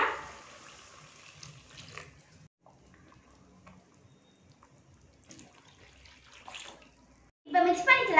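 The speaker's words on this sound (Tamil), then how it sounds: "இந்த குழம்புக்கு தேவையான தண்ணி ஆட் பண்ணிக்கலாம்." Water is poured into a pan of Mettur-style fish curry base with sautéed onion and ground paste, giving a quiet liquid trickle followed by a louder splashing burst at the end.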